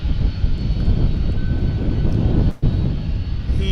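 A 30-year-old jet airliner, once flown by LTU Airlines, roars loud and steady at DFW Airport. The broad engine rumble is briefly cut near the end before resuming.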